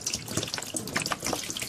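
Chlorinated tap water pouring from a faucet, a close, steady splashing gush with bubbly, uneven flutter and no talking.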